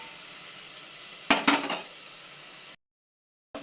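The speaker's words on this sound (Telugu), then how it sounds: "ఇప్పుడు వచ్చేసి ఇవి వేగుతున్నాయి" Chopped onions frying in a pan for mummy-style miriyala charu, a soft steady sizzle with a brief louder crackling burst of stirring, then it cuts to silence.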